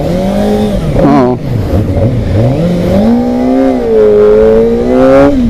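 Modenas ZX-4R sport motorcycle engine revving up and down in loud, close sweeps, rising to high pitches around the midpoint and near the end, steady and unbroken with no talk over it.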